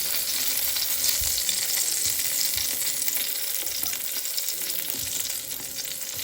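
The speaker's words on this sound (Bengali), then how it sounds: "যত ধীরে সুস্থে ভাজা যায় তেলটা তো অল্প লাগে" Eggplant fries slowly in a little oil, a loud, continuous sizzle close by with faint stirring underneath, no voices.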